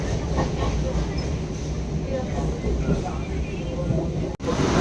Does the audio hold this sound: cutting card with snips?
no